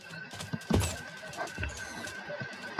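A horse whinnies in the Minecraft video game, a rising neigh over light background game noise with a few soft clip-clop-like taps, moderately loud and without speech.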